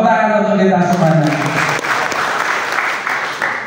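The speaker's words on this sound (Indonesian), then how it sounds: "Tepuk tangan untuk kita semuanya" Applause from an audience at a work meeting breaks out after a moment of voice and sustained tones, then continues as a dense, steady clatter of clapping to the end.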